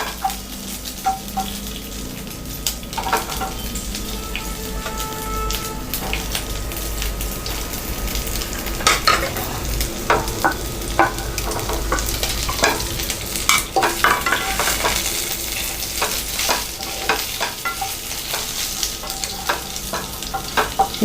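A spoon steadily stirs steamed salt kozhukattai through a hot pan, with continuous scraping and soft clatter over a low sizzle. The strokes are close and run without pause, with no talking.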